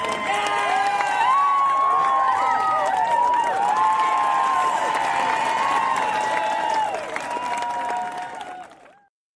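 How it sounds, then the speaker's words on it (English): Audience applause and cheering, loud and sustained, with excited voices and whoops riding over the clapping before it fades out near the end. "let's give a round of applause to the 5 heroes who saved the city"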